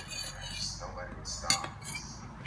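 Clear slime being stirred with activator in a bowl, giving light scraping and clinking of a utensil against the bowl, with soft wet squelches and one sharp tap near the end.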